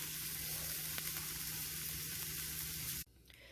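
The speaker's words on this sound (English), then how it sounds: "roast the dosa on both the sides" A ragi millet dosa roasts on a hot pan with a steady, close, hissing sizzle that cuts off abruptly near the end.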